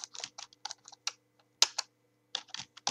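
Quick, irregular bursts of keystrokes on a computer keyboard, close and clear against a quiet room, with short pauses between clusters of taps.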